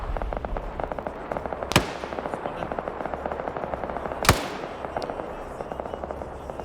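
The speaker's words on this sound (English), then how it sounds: "Now they're taking some suppressive fire." Suppressive gunfire in a video game: rapid, steady automatic bursts crackle in the distance, broken by two loud sharp blasts, with no talking over them.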